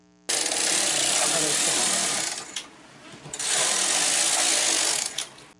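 A knitting machine working rows on a sweater back: two long, loud whirring carriage passes, each ending in a brief clatter, with a short quieter gap between them.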